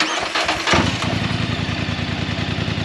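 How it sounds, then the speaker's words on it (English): A Polaris UTV engine with a new exhaust cranks briefly on a cold start, then catches and settles into a loud, steady, throaty idle with a rapid even pulse, close by. "Now this is cold start with the new exhaust."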